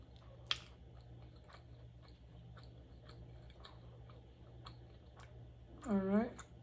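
Honey shrimp being chewed at close range, soft wet chewing and small clicks recurring in an uneven rhythm, with a short vocal sound near the end.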